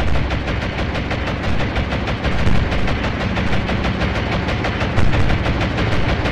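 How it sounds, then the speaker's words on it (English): Dense, continuous naval combat din from the Atlantic Fleet game, an airstrike with steady rattling gunfire and booming impacts filling the whole stretch at high level, with no talking. "Airstrikes again."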